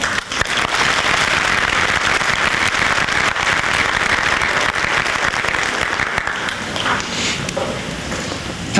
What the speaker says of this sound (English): I think they deserve a well-round of applause as well.